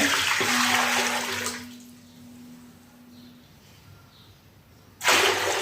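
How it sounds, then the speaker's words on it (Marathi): Water splashes loudly into a cooking pot during a sago papad recipe, pouring for about a second and a half, then a quieter pause, then a fresh burst of pouring at the end. "एवढं पाणी मोजून घेते हे एक पातील"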